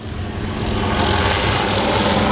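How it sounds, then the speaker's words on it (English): A helicopter flies overhead outdoors, its engine and rotor making a loud, continuous, close drone that swells slightly. "Helicopter agrees"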